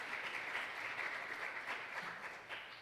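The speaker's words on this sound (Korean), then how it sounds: "우리 다 같이 박수 한번 쳐주시죠." A university church congregation at a Wednesday service applauds student clubs, an even, steady wash of many hands clapping, heard at a distance and fairly soft throughout.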